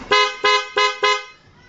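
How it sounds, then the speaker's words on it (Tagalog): Four short, loud blasts from a PIA dual horn fitted to a Barako 175 motorcycle, evenly spaced in a quick rhythm, close by, the last one trailing into a faint tail. "Tapos to naman yung PIA dual horn."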